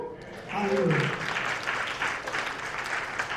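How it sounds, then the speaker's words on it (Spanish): A church congregation breaks into steady, full applause after a brief spoken phrase at the start, the clapping carrying on evenly and fairly close to the end. "eso merece un amén y eso merece un aplauso"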